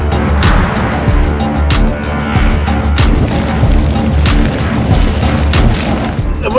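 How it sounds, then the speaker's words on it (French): Strong gusts of about 70 km/h buffet a parked car in Iceland, making a loud, continuous roar with irregular thumps and rattles as the wind hits the body. "Là, il y a vraiment 70 km/h de vent."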